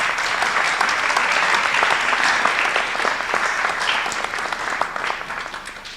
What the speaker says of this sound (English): Appreciate them with a round of applause.